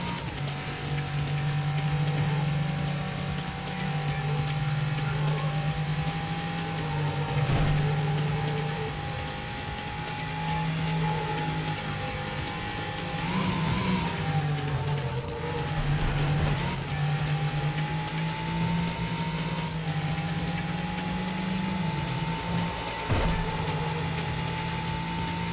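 Porsche race car engine from the racing game Need for Speed IV: High Stakes, a steady loud drone held throughout with small pitch shifts from gear changes and throttle, heard alone without talk.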